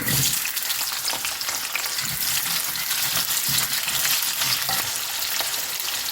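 Onions sizzle and crackle steadily in a hot pan for paneer masala, a loud continuous frying hiss with no speech.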